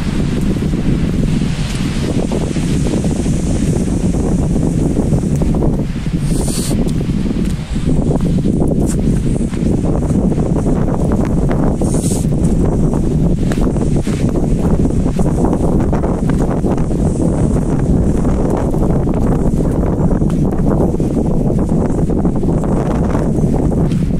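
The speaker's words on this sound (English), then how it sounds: "It's raining. It's windy." Steady loud wind roars and buffets the microphone on an exposed mountain trail in the Grayson Highlands in December rain, a continuous gusty rush with rustling and no speech.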